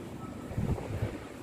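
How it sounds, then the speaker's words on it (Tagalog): Strong wind blows outdoors in a Japanese parking area, a steady low rumbling buffet against the microphone with brief gusty surges, with no talking. "Ayun yung sinasabi kong hangin."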